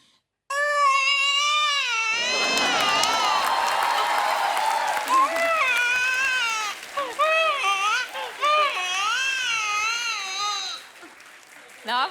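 A voice imitates a newborn baby crying, giving long wavering wails with rising and falling pitch in front of a studio audience, with applause and crowd noise beneath the early part.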